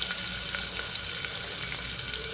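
Sliced onion frying in hot oil for dhaba-style dal tadka, with a steady, close sizzle throughout and a few soft pops and crackles, no voices.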